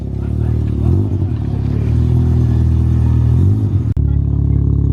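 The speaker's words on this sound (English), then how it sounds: "Can't get enough of the rotary sounds." A Mazda RX-7 FD rotary engine runs loud and close with a raspy, wavering drone that rises and falls, then cuts off abruptly near the end, leaving sudden quiet.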